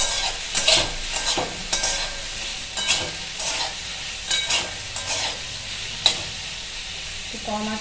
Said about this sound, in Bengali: কম আঁচ করে করে ভাজবো।